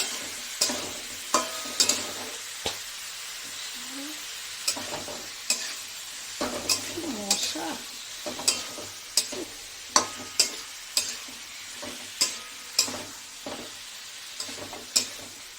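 Boiled soybeans with onion greens stirred in a pan: a soft continuous frying sizzle under repeated sharp clicks and scrapes of a spatula against metal, falling into a fairly regular rhythm toward the end.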